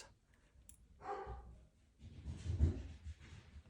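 Dogs barking in a home, a couple of short bursts of barks heard faintly at a distance, with no talk over them.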